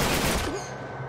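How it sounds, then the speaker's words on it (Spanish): Gunfire from the Uncharted 3 video game in a desert setting, a short burst of rapid shots, fairly loud, fading quickly into a low rumble within about a second. "Esos disparos, no sé hasta qué punto nos van a venir bien."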